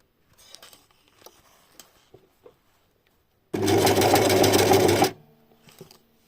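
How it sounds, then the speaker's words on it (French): A sewing machine runs a zigzag stitch along the edge of a swimsuit, one loud steady burst of about a second and a half after a few soft handling taps, close and alone. "Je vais faire donc un point zigzag le plus proche possible du bord"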